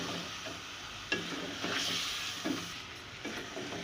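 Chicken korma with yogurt being stirred in a sizzling pan, a steady frying hiss with a few soft spoon scrapes and knocks.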